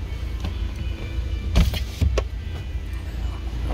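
A 2017 Fiat Strada's electric power window runs with a low motor whir, punctuated by a couple of sharper clicks and thumps near the middle, heard close inside the vehicle with no talking.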